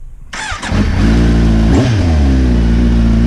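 A 2022 Kawasaki Z900 motorcycle engine cranks and fires up, then settles into a loud, steady, rumbling idle with a brief rev partway through.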